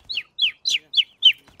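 A person imitates bird calls: five quick descending chirps in an even rhythm, clear and close, with short silent gaps between them.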